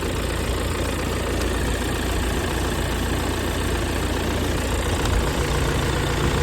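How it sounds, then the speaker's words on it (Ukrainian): A Volkswagen Tiguan engine idles steadily and continuously, a dense low rumble with no talking over it. "Ну, Двигун працює гарно."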